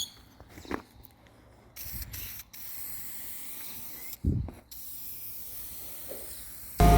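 Aerosol spray paint hisses in bursts as another coat goes onto car parts for a drift car repair, several short sprays with pauses between, close and fairly loud.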